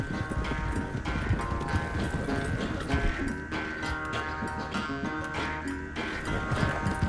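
Horse hooves clip-clopping steadily in Red Dead Redemption 2, a rhythmic trot running under dense game music throughout.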